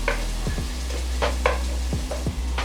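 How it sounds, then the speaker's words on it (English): Tomatoes sizzle in a hot pan with turmeric for a breadfruit beef curry, a steady frying hiss broken by several short scraping stirs, close and without talk. "And the tomatoes are getting cooked."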